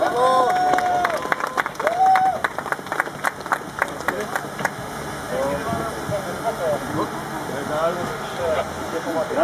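A crowd claps and applauds at an award ceremony after ski competitions at Czarny Groń near Andrychów, dense rapid clapping that swells early then thins out, with voices talking over and after it.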